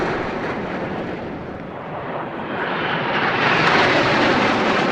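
Indian Air Force aircraft flying past in formation over the Republic Day parade, a loud continuous jet roar that swells steadily as the formation passes overhead, with no talk.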